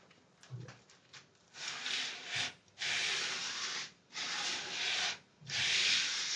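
A guitar body is scuffed slowly by hand with abrasive, giving soft, close rasping strokes in separate bursts with brief pauses between them, along with faint handling knocks.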